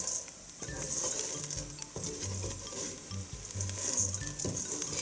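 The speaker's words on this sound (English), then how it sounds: "it's really important to keep on stirring because if you just leave it there, you also run the risk of it sticking to the pan" Saffron risotto is stirred steadily in a pan, the spoon scraping and dragging through the rice in repeated strokes over a constant light sizzle, close and alone with no voices.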